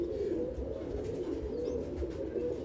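Low, steady cooing of pigeons fills the clip, a continuous murmuring drone with soft, faint higher flutters above it.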